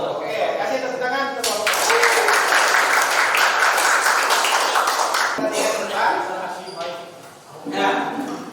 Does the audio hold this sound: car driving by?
no